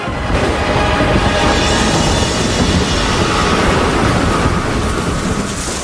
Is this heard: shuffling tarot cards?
no